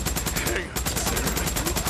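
Rapid continuous gunfire from the video game Days Gone, a dense, loud burst of repeated shots across the whole moment with no pause.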